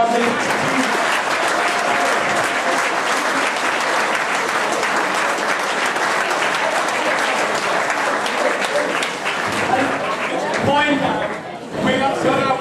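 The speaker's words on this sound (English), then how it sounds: "A good round of applause," A large crowd at a Lancashire versus South Africa rugby match breaks into loud, sustained applause that fills the whole stretch, thinning into scattered claps and chatter near the end.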